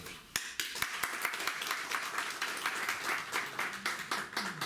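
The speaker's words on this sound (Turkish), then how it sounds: "Alkışlayın" An audience at a retirees' union council meeting breaks into applause, starting with a few sharp separate claps that quickly swell into steady, moderately loud clapping from many hands.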